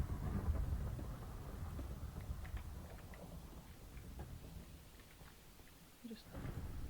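Rain and rolling thunder from a thunderstorm in the video game Minecraft, a steady low rumble with rainfall filling the whole stretch, fairly loud and continuous, dipping briefly near the end.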